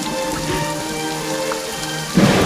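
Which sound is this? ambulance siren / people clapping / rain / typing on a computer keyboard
rain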